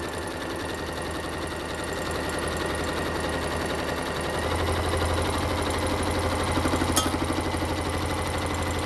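A sewing machine stitches a handbag seam, a steady fast mechanical whirring and rattling at close range that continues without pause and deepens slightly partway through.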